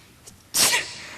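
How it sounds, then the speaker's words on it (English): A single sharp human sneeze, a faint breathy intake followed by one loud explosive burst that quickly fades, nearby and alone. "No, I always sneeze in threes."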